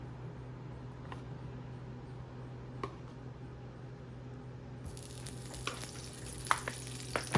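Butter sizzling in a frying pan ahead of a pepper jack cheese omelette, a quiet steady frying hiss with a few light clicks, growing brighter and louder toward the end.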